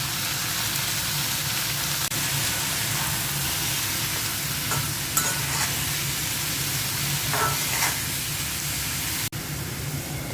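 Red amaranth greens with salt and green chilli frying in a pan, a loud, continuous close-up sizzle and hiss with occasional stirring scrapes, no talk over it.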